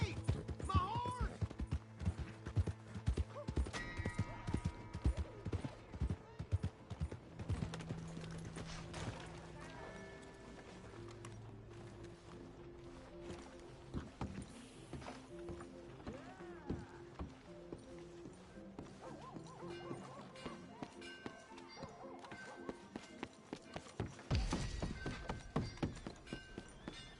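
Horse hooves clip-clopping at a gallop in Red Dead Redemption 2, a steady pounding rhythm with a whinny, mixed with game music and a rider talking over it.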